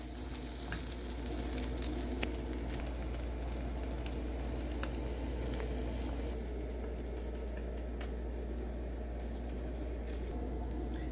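Scrambled eggs with cheese and pepper sizzle steadily in a hot pan, a constant crackling fry with faint stirring ticks and scrapes, close and even throughout.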